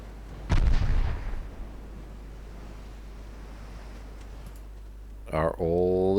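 Naval cruiser guns firing in a naval warfare strategy game: a single loud boom with a decaying rumble at the start, then quiet ambient sea noise, with a mechanical game tone near the end.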